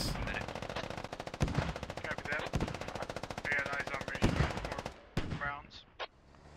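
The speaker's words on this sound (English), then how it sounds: "Look at those mortars fly out though." Mortar and weapon fire in a military combat video game, heard as dense, rapid bursts of loud gunfire with several heavier booming impacts, continuous for most of the stretch and then thinning out to a few isolated shots near the end.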